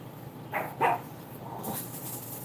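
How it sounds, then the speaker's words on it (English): A dog gives a couple of short, fairly distant barks in an indoor setting, with a brief pause between them over faint background noise. "Oh, now the dog's all up in arms."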